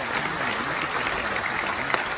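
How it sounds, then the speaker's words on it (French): Summit delegates at a food sovereignty conference in Dakar applaud the President of Ireland, a continuous wash of clapping from a large hall, moderately loud and even throughout. "que je vous demande d'applaudir"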